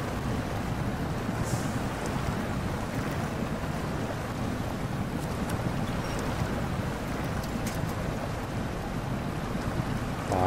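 Truck in SnowRunner, Michigan map, churning through lake water with all-wheel drive engaged and no traction, all wheels spinning; a steady dense wash of splashing and engine rumble continues evenly throughout.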